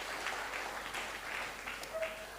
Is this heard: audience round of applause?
yes